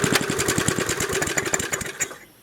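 Small Rally 20-inch lawn mower engine sputtering to life, a rapid close chugging putter of firing strokes that runs a couple of seconds and then cuts out.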